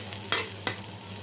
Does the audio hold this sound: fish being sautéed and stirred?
yes